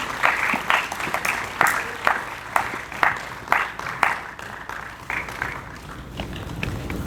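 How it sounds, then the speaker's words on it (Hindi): An audience claps as an actress comes on stage at a ceremony, a lively round of applause with distinct loud nearby claps in an uneven rhythm over a softer crowd wash, tapering slightly toward the end. "मंच पर आते हुए आपकी तालियों की बहुत ज्यादा दरकार है।"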